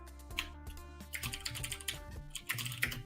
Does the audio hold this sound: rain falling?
no